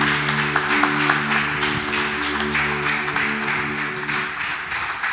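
Sustained, dense clapping from a church congregation fills the room over a held musical backing that fades toward the end, the applause continuing steadily throughout.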